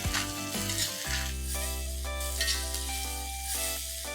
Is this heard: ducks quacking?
no